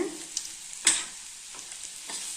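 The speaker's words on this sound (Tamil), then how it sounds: "நல்லா ஒரு கலரி கலரிக்கலாம் வெங்காயம் வந்து நல்லா வதங்கி வரணுங்க" Onions frying in a pan for ragi upma, soft sizzling broken by a few scraping stirs, one sharper and louder than the rest, with no voices.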